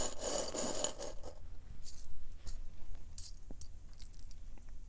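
Tarot cards being shuffled and drawn at close range, with a brisk riffle at first, then quiet papery slides and soft taps.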